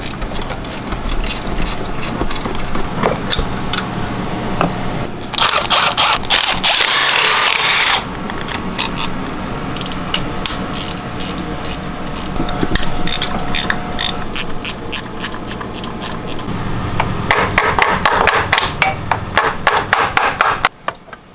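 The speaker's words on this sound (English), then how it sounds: "So I took off all the bolts but one of them" Bolts being removed from the CVT cover of a 150cc GY6 go-kart with a ratchet, producing close, steady clicking bursts with pauses and a few louder metallic knocks between them.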